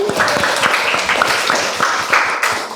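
A classroom group claps after a student group presentation, quick uneven hand claps from a small audience, close and fairly loud, with a few voices mixed in.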